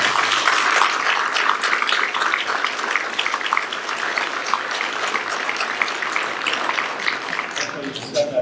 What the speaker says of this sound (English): Please give a round of applause for these guys